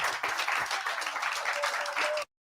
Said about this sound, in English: Give Dan even bigger round of applause.